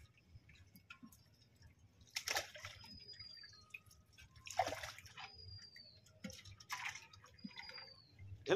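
Water and fish poured from a pot into a pond, a few separate splashing gushes with soft drips and trickles between them, quiet and set against a faint outdoor background.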